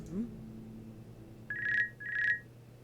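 A telephone rings twice in the video game VINCENT: The Secret of Myers, two electronic trilling bursts after a brief voice at the start, clear against a quiet backdrop.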